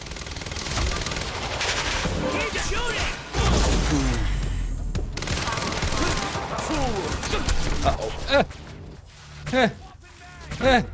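Submachine gun fire from the video game Quantum Break rattles in long dense bursts, loud and close, with a few sharper isolated shots near the end and someone talking over parts of it.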